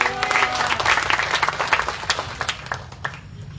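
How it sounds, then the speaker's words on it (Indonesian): A church congregation at a revival service claps and applauds together, a dense burst of hand claps that thins out over a few seconds with a faint voice beneath. "Nah, tepuk tangan bagi Tuhan kan?"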